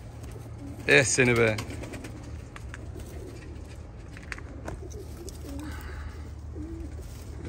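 Male Boğma Hünkarı long-faced pigeons coo softly at close range; someone speaks briefly near the start, then low murmuring coos continue.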